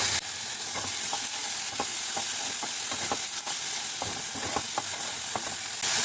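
Fish and onions fry with ginger-garlic, cumin and green chili pastes in a pan, a constant dense sizzle with repeated quick stirring scrapes throughout, close and fairly loud, no voices.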